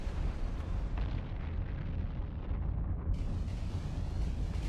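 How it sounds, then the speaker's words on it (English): Auto missiles firing in EVE Online, a dense continuous rumbling roar of launches and impacts that stays loud throughout and brightens slightly near the end. "Now we got the auto missiles going on all 3 of them"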